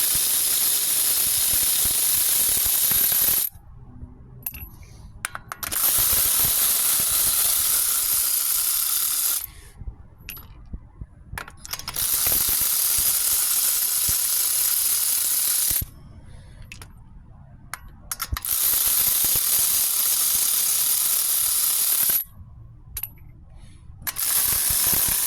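A roadside service technician runs an impact wrench on a vehicle's lug nuts in four loud, sustained rattling bursts, separated by brief quieter pauses.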